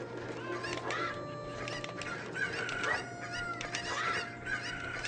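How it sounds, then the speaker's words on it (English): Chickens clucking in Hyrule Field in Zelda: Ocarina of Time, repeated squawky clucks and honk-like calls over a steady game music and ambience bed, moderately quiet. "Some of these chickens can be hard to pick up."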